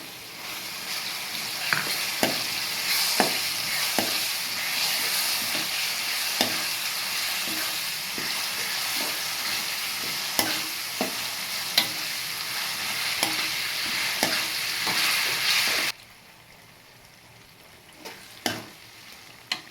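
Chopped onion and ground tamarind chutney fry in a hot pan, a steady sizzle broken by sharp clicks of a spoon stirring against the metal; the sizzle drops away abruptly near the end, leaving a few scattered scrapes.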